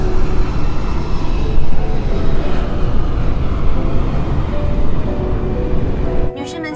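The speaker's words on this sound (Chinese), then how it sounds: "我们的飞机即将着陆，" A passenger airplane in flight shortly before landing, a loud, steady cabin engine roar that holds for several seconds and then abruptly drops off into quieter cabin noise.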